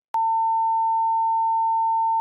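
A steady, loud phone tone plays alone at one pitch for about two seconds as a call is hung up, starting and stopping abruptly.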